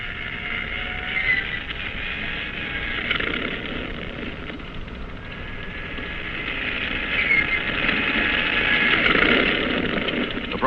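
A WWII-era aircraft engine starts and runs steadily on the deck of the cruiser USS Boise, a loud continuous drone that swells toward the end, with no voices.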